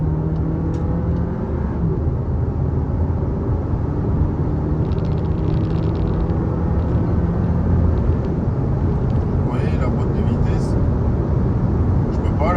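A Cupra Formentor accelerates hard under steady, loud engine rumble. The drone runs continuously and close, and an automatic gearbox picks the shifts on its own, with no speech over it.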